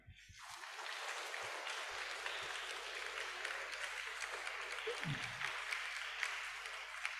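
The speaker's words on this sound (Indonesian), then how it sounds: "Tepuk tangan dulu untuk kita." Children in a school gathering for a dental health campaign burst into sustained applause, a dense wash of clapping that starts abruptly and continues steadily to the end, with faint voices underneath.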